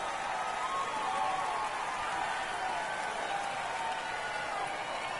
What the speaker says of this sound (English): the crowd is cheering on the 2-run shot by Augustin Ruiz